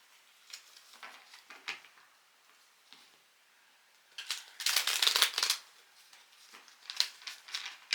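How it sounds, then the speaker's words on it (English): A deck of tarot cards being cut and shuffled, with soft papery riffles and taps that build into a louder, dense burst of flicking cards midway, then a few lighter riffles at the end. "I want to cut the deck."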